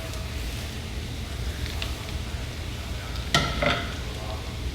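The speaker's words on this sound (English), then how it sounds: "while your garlic and basil are sauteing" Garlic and basil sauteing in a pan give a steady low sizzle and frying crackle, with a brief louder burst of stirring or clatter near the end.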